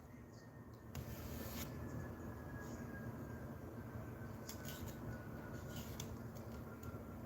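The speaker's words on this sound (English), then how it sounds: "And I just hear a plane," Airplane flying overhead, a faint, distant, steady roar with a thin rising whine, sustained across the whole stretch with scattered light clicks and no talk.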